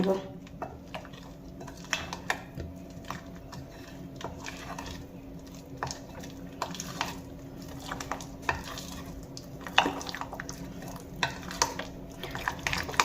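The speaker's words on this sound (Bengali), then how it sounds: "এখানে প্রথমে আমি দু চামচ বেসন দিয়ে দিয়েছি এবারে পালং শাকের পেস্টের সঙ্গে মেখে" Gram flour is worked into a spinach paste in a bowl with a utensil, giving irregular soft scraping, sticky squelches and sharp clicks against the bowl at close range over a faint steady background hum.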